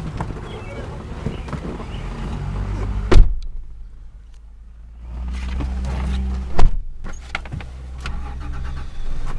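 2004 Toyota Tacoma extended-cab 4x4 pickup with a V6 and 5-speed manual drives on a test ride, steady engine and road hum from inside the cab, broken by a couple of sharp thumps, with a quieter lull in the middle.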